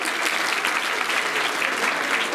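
A crowd at a school annual day function in Panjim applauds a guest, thick continuous clapping filling the space evenly throughout.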